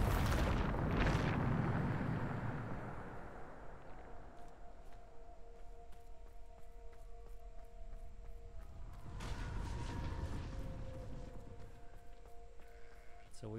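A Bombarda spell explosion in Hogwarts Legacy lands as a loud, rumbling blast that fades into ringing, siren-like tones, followed by a second swelling burst, with speech over it.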